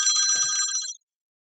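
A telephone rings once from an unknown caller, a bright electronic trill that is loud and close, lasting about a second before cutting off to silence.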